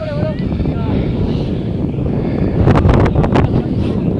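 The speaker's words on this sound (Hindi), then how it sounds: "इतनी सर्द हवा चल रही है।" Cold wind buffets the microphone at Murree as a steady, loud roar, swelling near the end, with faint voices underneath.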